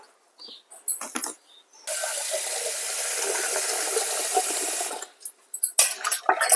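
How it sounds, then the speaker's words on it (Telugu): Split horse gram lentils are washed in water. A few light clatters come first, then a steady, loud rush of running water for about three seconds, followed by more small knocks and splashes, with no voices. "బాగా కడుక్కుంటే శుభ్రం పొట్టు ఉంటే పొట్టు పోతుంది"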